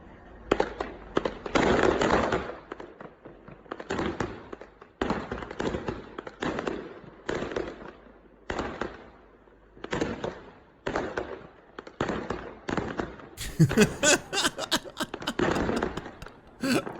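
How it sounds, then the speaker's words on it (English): Fireworks go off in repeated sharp bursts and crackling volleys against a demolition excavator in China, a dense, uneven string of pops and bangs across the whole stretch. "In China, a dude fights off an excavator sent to demolish his building with fireworks."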